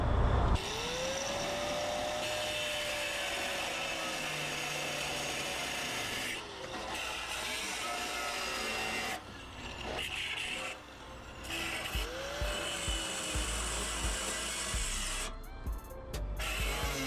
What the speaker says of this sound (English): Freightliner grinder with the Freightliner disc